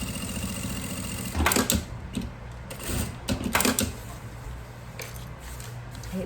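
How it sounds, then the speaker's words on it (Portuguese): A sewing machine runs a delicate half-foot topstitch on a floral watercolor makeup pouch, working in short, close bursts of rapid mechanical stitching separated by brief pauses. "Vou passar um pesponto de meio pezinho de máquina para ficar bem delicado."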